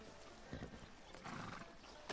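Horse hooves clip-clop in the video game Red Dead Redemption 2, a few faint, soft hoofbeats and movement sounds over quiet ambience, with no clear talking.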